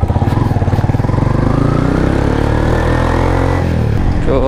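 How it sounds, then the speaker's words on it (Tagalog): A motorcycle of 400cc or more idles with a pulsing throb, then its engine rises and settles into a loud, steady running drone close by, with no talking. "Ganda ng motor na ito. 400cc pataas to."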